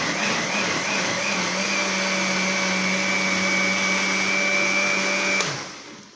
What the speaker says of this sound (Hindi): आप ये देख रहे हैं कि ये ग्राइंड हो गया बिल्कुल मसाला